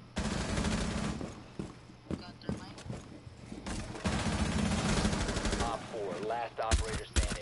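Rapid bursts of gunfire crackle in Rainbow Six Siege, short automatic volleys and single shots scattered irregularly and close by, with a player talking over the shooting.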